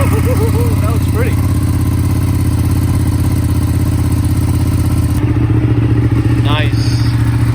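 A Ducati 959 Panigale Corse engine runs loud and close, a steady, throbbing idle with brief blips of revs, while people talk over it.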